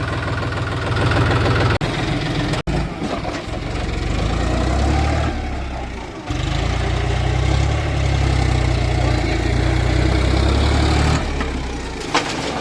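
A tractor hitched to a trolley idles with a loud, steady low rumble, broken by a sharp knock and a brief drop in pitch partway through, then settling back to a constant drone without talk.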